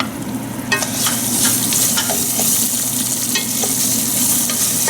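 Rice and jalapeños frying in a hot pan, a steady close sizzle with a stirring utensil scraping and clicking against the pan in irregular strokes throughout, no voices.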